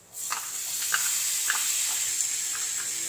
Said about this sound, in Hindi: टमाटर को हम मसालों में अच्छे से मिला के इसे सॉफ्ट होने देंगे।